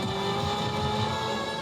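A car accelerating in a live-action Grand Theft Auto V recreation, a loud, steady engine roar with rising tones, held close throughout the short burst.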